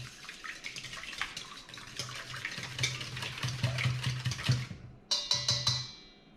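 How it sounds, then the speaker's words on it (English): A whisk quickly beating six eggs in a bowl for paleo hot cross buns, a rapid wet clicking and sloshing that builds steadily, then stops with a brief clink near the end. "we will just throw in the 6 eggs first and give them a quick whisk"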